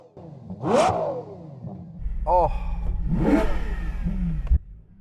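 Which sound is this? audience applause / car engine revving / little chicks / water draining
car engine revving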